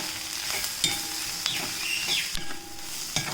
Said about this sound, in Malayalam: 1 ടീസ്പൂൺ മഞ്ഞൾപ്പൊടി ഇട്ടിട്ട് അതൊന്ന് പച്ച മണം മാറത്തക്ക ആ ഒരു രീതിയിൽ വഴറ്റിയെടുക്കാം